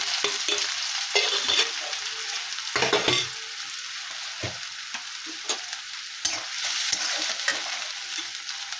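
Chopped garlic, chili and onion frying in hot oil, a loud continuous close sizzle with occasional stirring scrapes and crackles throughout.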